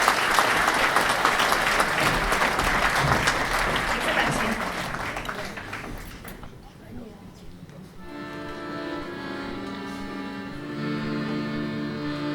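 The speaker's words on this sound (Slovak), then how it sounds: "Privítajte ich potleskom, priatelia." Audience applause for a Slovak folk ensemble in traditional costume at an awards ceremony, a dense sustained clapping crowd that fades out midway, followed by the ensemble's instrumental music starting up.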